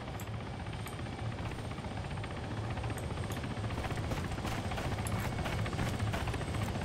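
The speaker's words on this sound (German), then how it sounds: "Lol, der Heli landet hier." A helicopter lands close by in the video game Arma 3, its steady, dense rotor and turbine roar filling the scene continuously and loudly, with no talk over it.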